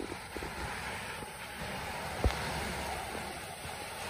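Waves roll in at La Muelona beach in La Unión, El Salvador, as a continuous broad wash of surf with a gusty wind rumble on the microphone and one brief louder thump, without voices.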